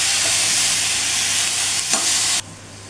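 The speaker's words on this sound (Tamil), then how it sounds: "குடமிளகா போட்டு நல்லா வதக்கணும்" Capsicum and onion sautéing in a hot pan for a spicy chutney, a loud continuous close hiss of frying that cuts off abruptly near the end.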